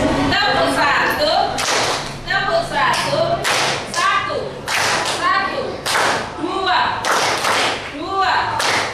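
A school class clapping hands together in short rhythmic bursts, loud and close, with children's voices calling out between the claps in a classroom.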